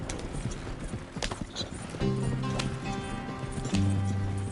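Hooves clip-clop in a quick galloping rhythm in a video game, with wheel rattle and low rumbling tones joining partway through.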